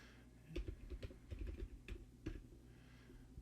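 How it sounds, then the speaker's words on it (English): Irregular bursts of quiet keystrokes on a computer keyboard as an email address is typed, close by and soft, with short pauses between clusters of clicks. "I can't talk and type at the same time."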